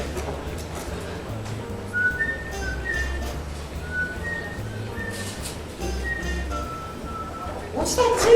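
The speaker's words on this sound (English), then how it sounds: "What's that tune you're whistling?" Someone whistles a simple melodic tune in short phrases, with quiet voices and background noise underneath and a brief clatter at the end.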